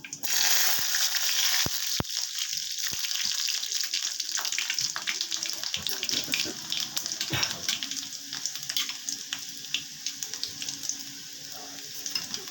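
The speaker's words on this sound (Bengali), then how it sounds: "মশলাটা ফুটে গেছে, প্রথমে রসুন দিয়ে দিলাম।" Garlic hits spices already frying in a hot pan, giving a continuous loud sizzle and crackle with a few sharp pops and clinks near the start, steady and close throughout.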